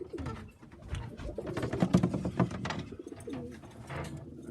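Pigeons cooing in a loft full of young birds, several soft rolling coos overlapping close by in steady, continuous calls.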